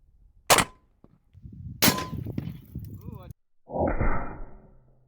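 Two sharp gunshots from 7.62x39 and 54R tracer rounds fired at a steel target, each a loud crack with a ringing tail, followed by a clanging metallic ring from the struck steel; brief speech-like sound between.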